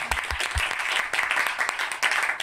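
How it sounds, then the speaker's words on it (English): Audience applause at a drum clinic at a drum school, a thick steady burst of clapping with a few low thumps at the start. "Please give him a round of applause."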